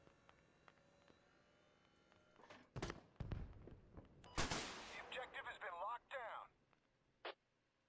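Heavy cannon fire from a tank in the Squad military game: a few sharp, loud blasts in quick succession with a longer booming burst, followed by radio chatter and a brief tone.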